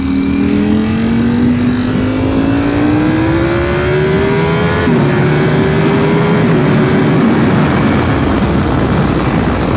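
A Ducati V4 SP motorcycle engine revs hard and close, its pitch climbing steadily through a long pull with a brief dip partway before rising again, loud and continuous over wind noise.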